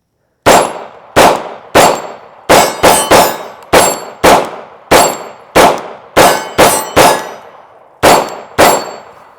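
CZ P-07 pistol shots ringing a 12x16 steel plate and 8-inch round steel plates at an outdoor range, about fifteen sharp metallic clangs in steady succession, some in quick pairs, each ringing out briefly before the next.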